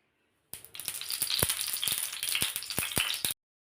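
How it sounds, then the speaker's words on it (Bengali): Oil is poured onto a hot tawa over a gas flame and bursts into a loud crackling sizzle, with sharp spits and pops scattered through about three seconds before cutting off abruptly. "তেল দিয়ে দিচ্ছি।"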